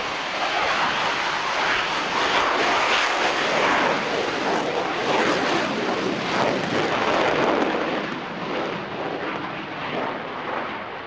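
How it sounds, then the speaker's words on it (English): A Saab JAS-39 Gripen jet from Sweden roars past at a Farnborough air show flying display, a loud, sustained, broadband engine rumble that fades slightly toward the end. "the future consists of aircraft like the JAS-39 Gripen from"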